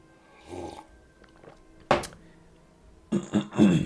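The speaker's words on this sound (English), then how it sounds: "I had to clear my throat." A person clears their throat in two short, gravelly bursts: one brief rasp in the middle and a louder, rougher pair of throaty scrapes at the end, with quiet pauses between.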